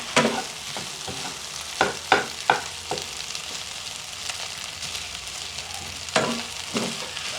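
A spoon scrapes and stirs rice through chicken biryani in a pot, with a few loud clattering strokes over a continuous faint sizzle, no voices.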